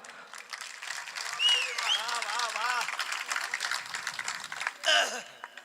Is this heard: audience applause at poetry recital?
yes